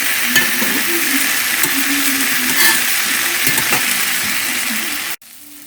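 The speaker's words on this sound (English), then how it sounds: "Okay, I stirred it once more, and I think I'm just going to stir it one more time." Squash frying in a pan with flour, a steady loud sizzle broken by several scraping stirs, cutting off abruptly near the end.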